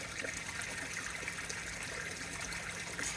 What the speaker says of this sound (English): the water's going to run out this tube into a tank